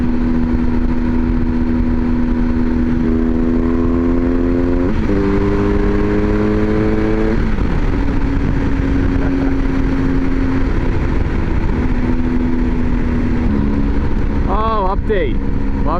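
A motorcycle cruising steadily on a desert road heading toward Death Valley, with a loud, continuous engine drone and heavy wind rush, the pitch stepping up and down through gear changes.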